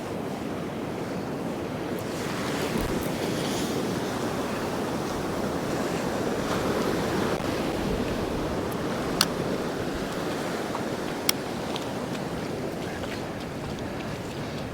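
Ocean surf breaking steadily on a deserted Northumberland beach, a continuous close wash of waves with some wind buffeting, no voices.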